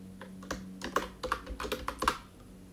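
A new password is typed on a computer keyboard while changing a Windows 10 local account password. About a dozen quick, close, uneven key clicks sound alone.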